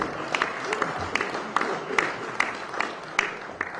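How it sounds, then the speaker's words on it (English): An audience at a South Carolina State University event introducing a new head football coach claps steadily, a dense patter of applause with a few sharper individual claps standing out, lasting several seconds. "So how about give me a hand?"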